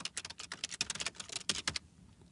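A computer keyboard clatters with quick, irregular keystrokes as a subtitle is typed in PowerPoint 2013. The close, light taps come in a rapid burst and then stop.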